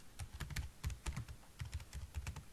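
Quick, steady keystrokes on a computer keyboard as a folder name is entered, a close, even run of clicky taps with no talking.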